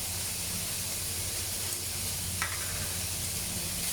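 Pork meat frying in a pan for Chinese home-cooked noodles, a steady loud sizzle and hiss throughout with a faint stirring scrape near the middle.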